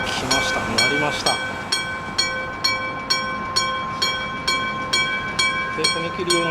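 Nagoya Rinkai Railway train passing a level crossing with an electric-bell crossing signal, the bell striking in a steady rapid rhythm over the rumble of the passing train, with a little talk heard.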